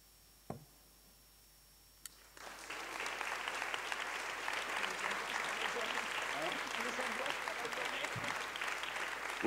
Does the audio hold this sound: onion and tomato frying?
no